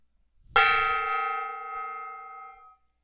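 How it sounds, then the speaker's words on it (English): A gong in a home workshop is struck once, giving a loud metallic hit that rings out as a sustained, shimmering tone and fades away over about two seconds, heard alone. "I just banged the gong."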